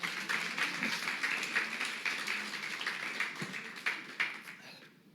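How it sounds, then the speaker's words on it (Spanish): Audience clapping at a religious service, a quiet but continuous patter of many hands that swells slightly and then fades away near the end, with no voices over it. "Denle un aplauso a Jesús"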